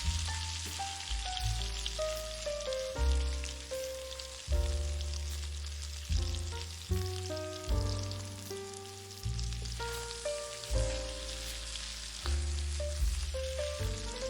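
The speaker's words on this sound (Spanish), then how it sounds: "Echamos la carne a la cazuela, y la sellamos por todos lados a fuego alto" Skinless chicken thighs sear in a casserole over high heat, giving a steady hiss and sizzle that runs the whole time beneath louder background music.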